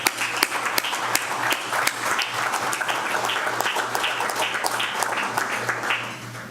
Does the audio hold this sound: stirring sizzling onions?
no